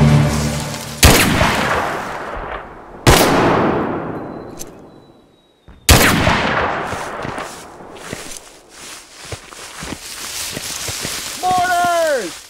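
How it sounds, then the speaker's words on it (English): Mortar rounds from the Mud and Blood war game land in repeated loud booms, each a sharp hit trailing into a long decaying rumble, with a whistling tone and shouted voices near the end. "Mortars!"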